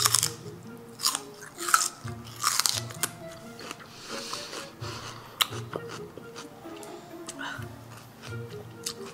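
Crunchy raw celery being bitten and chewed close up, with repeated sharp crunches in irregular bursts and faint background voices between bites.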